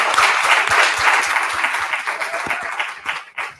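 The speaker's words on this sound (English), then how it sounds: "we should really give Dr. Smith-Young a wonderful round of applause for all of her great advice" A conference audience applauds a woman doctor with dense, steady clapping from many hands, holding full and close before starting to thin out near the end.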